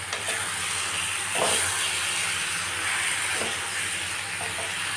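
Mango pickle mixture with black salt and turmeric frying in a pan for a homemade sweet-sour-spicy pickle, giving a steady, close sizzling hiss that holds evenly throughout with a slight swell partway through.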